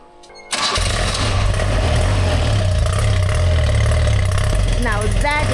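A 45-year-old BMW R100 motorcycle engine catches after a brief quiet moment, then settles into a steady, close, loud idle around 1,000 RPM with a little choke applied, throbbing evenly to the end.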